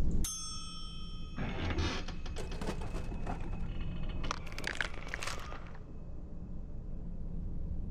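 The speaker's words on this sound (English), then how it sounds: "Ring bell for service." A service bell dings once in a video game, giving a sharp bright ring with a lingering tone, followed by several seconds of crinkling, clattering noise that fades into quiet.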